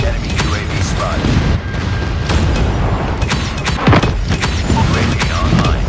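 Rapid explosions from airstrikes in a 10v10 Domination match of Call of Duty Mobile on the Shipment 1944 map, a dense, continuous barrage of loud booms and thuds with layered battlefield noise and no pauses.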